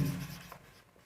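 Short burst of marker or chalk writing on a board during a maths lesson, a brief scratchy stroke near the start that fades quickly into quiet.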